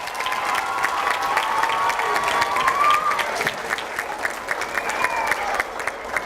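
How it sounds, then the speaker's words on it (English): Steady applause from a crowd at a Springfield Public Schools gathering, filling the hall for several seconds with dense, even clapping and a few scattered cheers. "Let's give another big round of applause for that."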